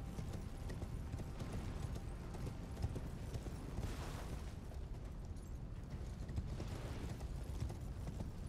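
Steady galloping hoofbeats of a horse in Elden Ring thud along without pause over a dense, rumbling background that never lets up.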